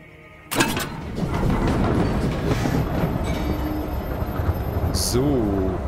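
A train in the video game Voidtrain rolls along with a steady rumble and clickety-clack, a burst of air near the end, and someone talking over it.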